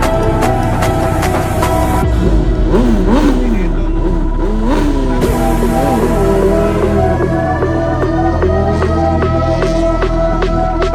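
Isle of Man TT race motorcycles rev hard near the starting grid and paddock, several engines snarling and rising in pitch in overlapping bursts, loud and close with a dense mechanical whine throughout.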